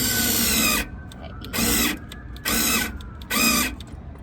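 Cordless drill boring a hole for a tailgate install on a 2017 Jeep JK, running in four loud bursts of about a second each with short pauses between, whirring under a faint room background.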